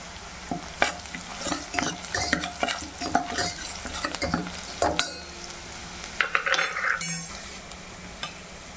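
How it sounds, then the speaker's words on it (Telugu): Onions for a chicken curry sizzle quietly in a pan while being stirred. A spoon scrapes and clinks against the metal in irregular strokes, close by. "Onion baga fry chesukovali."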